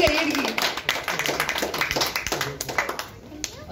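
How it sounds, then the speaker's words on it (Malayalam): Guests clap at a Kerala wedding reception, a burst of quick, uneven claps from a nearby crowd, with speech running over the clapping. "എല്ലാവരും എനർജറ്റിക് ആയിട്ട് ഒന്ന് കൈയടിക്കുക"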